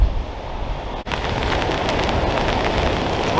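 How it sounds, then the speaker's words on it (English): Steady rain falls outdoors on a shingle beach during a fishing session, a dense continuous hiss with wind mixed in, broken only by a brief dip near the one-second mark. "It's raining again."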